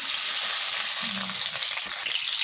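Garlic frying in hot oil in a pan gives a loud, continuous close sizzle and crackle, with a brief low stir sound partway through.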